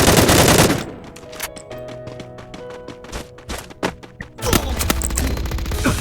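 Bursts of gunfire from a shooting video game, rapid repeated shots in clusters and single cracks at close range, with louder ambient game noise at the start and end.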